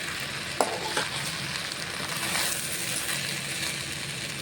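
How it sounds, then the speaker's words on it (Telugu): Rice frying in ghee and oil in a pan for coconut-milk bagara rice: a steady, close crackling sizzle with two sharp metallic clinks near the start and no talking. "నేతిలో ఆయిల్లో ఇది చక్కగా వేగితే బాగుంటుందండి రైస్."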